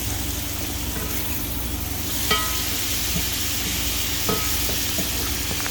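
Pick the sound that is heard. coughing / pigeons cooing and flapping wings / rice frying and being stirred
rice frying and being stirred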